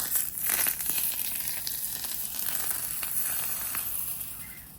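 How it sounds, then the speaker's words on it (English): Hot oil poured over roasted eggplant choka gives a steady, close crackling sizzle that holds for about five seconds and fades slightly toward the end, with no talking. "We're just going to pour our hot oil on top."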